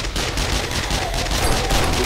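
Rapid gunfire during a horde night in the video game 7 Days to Die, a dense continuous fusillade of close shots with no pauses.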